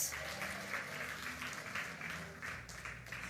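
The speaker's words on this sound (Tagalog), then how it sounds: "Pumalakpak ang nagsasabing, yes!" A church congregation claps together during a sermon, a sustained wash of applause with uneven swells that runs through the whole stretch, heard from some distance.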